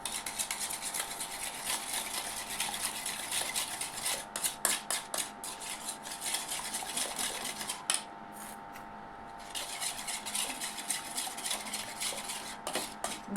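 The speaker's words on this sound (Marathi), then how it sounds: "दही पहिले मीठ टाकून घोटून घेऊ." Yogurt with salt being whisked in a bowl for a homemade curd-chilli recipe, a steady faint scraping and stirring that runs throughout, with a few sharper clinks of the utensil against the bowl.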